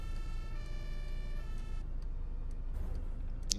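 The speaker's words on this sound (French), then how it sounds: "Vous entendez toutes les sirènes en fond?" Fire engine sirens wail in the background of the OMSI 2 bus simulator game, a steady tonal siren with strong harmonics for about two seconds, then fading into low road rumble with faint bursts near the end.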